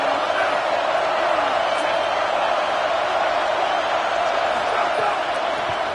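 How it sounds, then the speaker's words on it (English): Football stadium crowd at a Notre Dame scrimmage, a dense continuous roar of many voices held at a steady level for several seconds. "This crowd trying to make life miserable for this offense."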